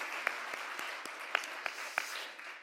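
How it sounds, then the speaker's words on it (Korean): A church congregation claps and applauds together, a dense, steady patter of many hands with a few louder sharp claps standing out. "우리 사랑을 주신 하나님께 우리 한번 박수로 영광 드리겠습니다"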